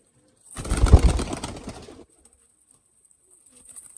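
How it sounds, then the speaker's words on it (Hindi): A Cheena pigeon, kept among domestic pigeons, gives one loud, close, throaty cooing burst lasting over a second, followed by near silence. "ये चीना कबूतर है।"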